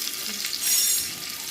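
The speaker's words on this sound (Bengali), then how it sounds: "ডিমটাকে ভালো করে একটু লাল লাল করে ভেজে নেব।" Eggs seasoned with salt and turmeric fry in hot oil in a kadai, giving a steady close sizzle that swells briefly midway, with no talking.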